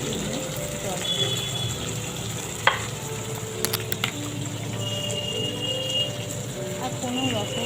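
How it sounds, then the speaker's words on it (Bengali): Paneer curry with turmeric sizzles gently in a pan while being stirred and sautéed, with soft frying hiss, scraping and occasional sharp clinks of a utensil against the pan. "এর মধ্যে দেবো হলুদ আর দিয়ে বেশ ভালো করে কষিয়ে নিয়ে জল দেবো।"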